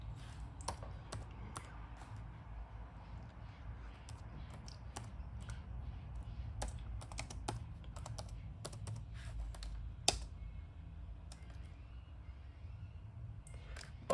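Quiet, irregular tapping of IBM R50e laptop keys, close by, in bursts and pauses with a few sharper clicks, no voices.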